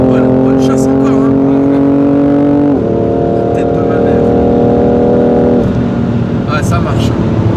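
A BMW M3 F80 Competition in Java Green accelerates hard, its engine note climbing through two gear changes, loud and close from inside the car with a voice talking over it.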